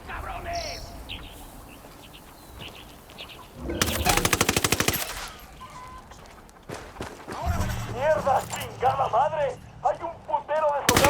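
Gunfire in Ghost Recon Wildlands: a loud, dense machine-gun burst erupts after quiet ambience, followed by further shots and action sounds while voices talk.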